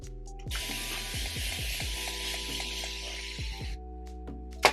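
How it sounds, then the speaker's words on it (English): A spray bottle hisses out a steady mist for about three seconds, with soft clicks from the trigger before and after, close by. "I love this spray bottle."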